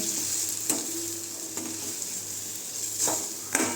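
Maggi noodles with Maggi masala are stirred in a pan over a low flame: a constant sizzle with four sharp spoon scrapes and taps against the pan, close and alone, with nobody talking.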